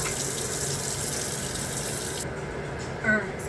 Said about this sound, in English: Alright, so I drained the pasta.